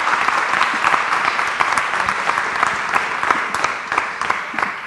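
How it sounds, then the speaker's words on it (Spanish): Strong applause from a seated audience at a university science panel, honoring the teachers; dense, sustained clapping close by that continues evenly for several seconds without talk. "Fuerte el aplauso para los docentes."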